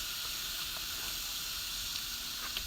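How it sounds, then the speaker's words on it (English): Spatchcock chicken seasoned with fajita seasoning sizzles skin side down on grill grates, a soft steady hiss with a few small pops, fairly quiet and alone. "Skin side down. That's a good sizzle."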